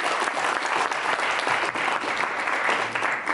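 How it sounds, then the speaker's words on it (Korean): A seated audience at a Korean panel discussion on welfare investment applauds steadily to welcome a former party co-leader, a dense, even wash of clapping throughout. "박수로 맞아주십니다"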